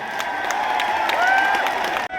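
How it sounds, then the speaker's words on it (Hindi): Rally crowd in Uchana applauding as former UP chief minister Mayawati arrives by helicopter: a broad wash of clapping and cheering from a large outdoor gathering, with tonal whistle-like sounds over it, cutting off abruptly at the end. "सम्मानित साथियों पहुंच चुकी हैं, उनके लिए जोरदार तालियों से स्वागत करें।"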